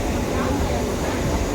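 Steady rumbling rush of a crowded passenger train on the Bangalore to Yediyur line, heard from inside the carriage as a continuous, fairly loud roll with no clear pauses.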